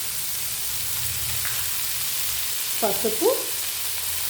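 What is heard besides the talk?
capsicum frying in a pan with spices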